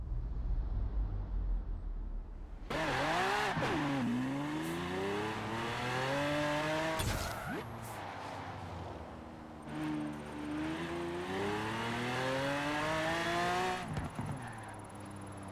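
A Mosler sports car in Forza Horizon 4 accelerates hard downhill, its engine roaring loud and close through rising gear pulls, with sharp shift breaks between surges and no talk.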